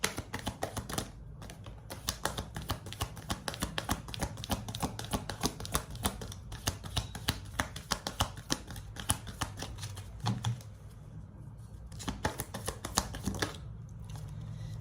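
Tarot cards are handled and shuffled for a reading, giving close, rapid papery riffles and clicks that run almost continuously, with a brief lull partway through and no talking.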